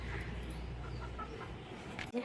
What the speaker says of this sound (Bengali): এই যে দেখুন মুরগিগুলো আবার চলে এসছে।